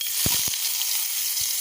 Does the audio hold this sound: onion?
yes